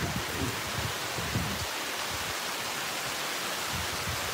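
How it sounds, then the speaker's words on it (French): A heavy rain downpour falls as a dense, steady hiss, loud and continuous, with some lower rumbling early on and no talking. "parce que c'est la grande averse"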